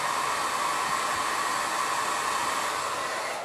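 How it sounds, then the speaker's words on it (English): A blow dryer runs steadily and loud the whole time, a constant airy whir with no talking over it. "This is just a blow dryer."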